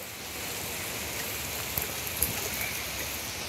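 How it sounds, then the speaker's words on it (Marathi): Heavy rain pouring down steadily, a dense continuous hiss of drops hitting surfaces, with a couple of slightly louder nearby splats partway through. "खूप म्हणजे खूप पाऊस आहे."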